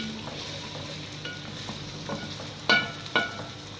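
White onion frying in a pan, a soft continuous sizzle broken by several stirring scrapes and two sharper clinks of the utensil against the pan near the end.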